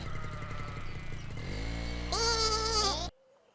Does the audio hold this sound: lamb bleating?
yes